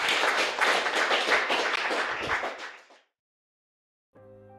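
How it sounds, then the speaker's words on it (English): Clapping for the 7974 Great Scott robotics team, a dense burst of applause lasting about three seconds that fades out abruptly, followed by silence and then a short musical tone. "let's give Great Scott a big round of applause here for all their progress so far"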